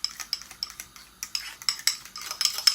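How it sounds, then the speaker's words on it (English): A spoon scrapes and clinks around a bowl of banana protein pancake batter made with cocoa powder, quick irregular taps and scrapes repeating close up with no talk. "stirring our batter mix. I'm just going to use a spoon as well."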